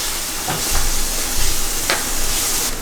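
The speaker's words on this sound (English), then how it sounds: "I'm gonna add the garlic and you just stir that in for me" Garlic being stirred into a sizzling pan for a vegan tuna noodle casserole: a steady close hiss with a few soft scrapes of the spoon, and no voices.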